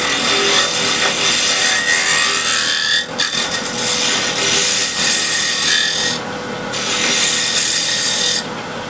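A woodturning lathe spins as a tool shapes a wooden wheel, with continuous loud scraping and rasping under a steady motor hum and brief dips where the tool lifts off.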